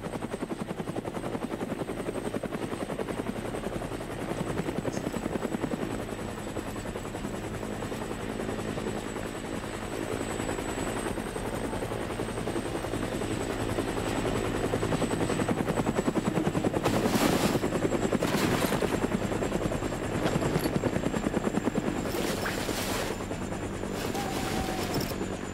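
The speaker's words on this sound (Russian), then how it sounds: "Еще и вертолет летит." In the shooter video game Anarchy Wolfs law, a helicopter drones steadily with a continuous rotor hum and engine whine, growing slightly louder midway, with faint distant gunfire bursts toward the end.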